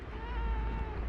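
A hungry black cat gives one drawn-out, whiny meow up close, steady and clear for about a second.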